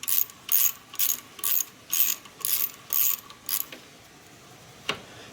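A ratchet turns the power steering belt adjuster clockwise on a fourth-generation Nissan Maxima, making about eight loud, evenly spaced bursts of close mechanical clicking, then a pause and one last faint click.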